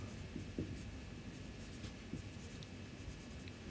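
Pen or marker writing out figures during a lecture on inventory control simulation, a soft, steady scratching with faint irregular strokes, close and quiet, with no talking.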